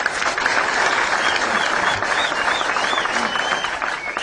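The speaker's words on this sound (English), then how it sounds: "You can clap for him." An audience at a public gathering in Kenya applauds for Rigathi Gachagua after a woman speaks, a loud, dense and continuous wash of many hands clapping, with crowd noise mixed in throughout.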